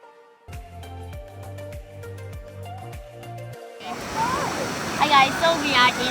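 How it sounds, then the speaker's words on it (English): A waterfall in Pahang, Malaysia, roars as a steady broadband wash of falling water that swells louder over the last seconds, with a few sharp tonal knocks and hums near the start. "here is the waterfall."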